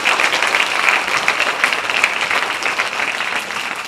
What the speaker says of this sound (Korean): 기관장님들 위해서 여러분 뜨거운 박수 하나 보내주시기 바랍니다